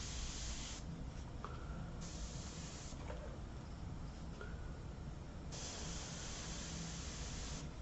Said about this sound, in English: Get the airbrush.